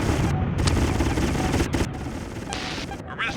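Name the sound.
turret gunfire in PS1 video game G-Police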